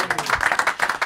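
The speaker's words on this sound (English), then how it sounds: "Give them a round of applause, everybody." Quick burst of close clapping from a small group welcoming players on a TV pitch show, a rapid uneven patter of hands lasting about a second.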